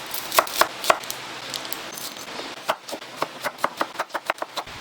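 A knife chopping red onion on a board for a healthy salad: a few spaced cuts, a pause, then a quicker run of sharp, close taps, with no voices.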